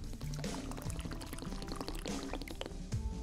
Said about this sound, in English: Allow me to pour you a glass of Chardonnay.